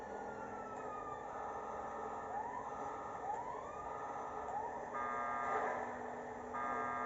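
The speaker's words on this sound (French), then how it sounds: "on continue avec la sirène" Police car siren in a video game, a wailing electronic tone sweeping up and down repeatedly at moderate distance over a steady engine drone, with a brief louder horn-like blare near the end.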